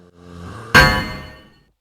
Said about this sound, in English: So it's like a really loud metal sound